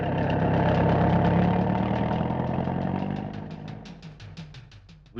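A tractor engine runs steadily at idle, a broad low rumble that gradually fades and thins toward the end, with sharper rhythmic engine knocks emerging as it dies down; no talking.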